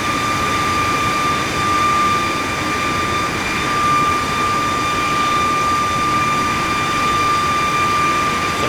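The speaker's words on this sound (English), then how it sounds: "there's an aircraft there above us." Aircraft engines on a Ryanair airliner in Microsoft Flight Simulator 2024 give a loud, constant jet drone with a steady high whine running through it, unbroken for the whole stretch and with no talk.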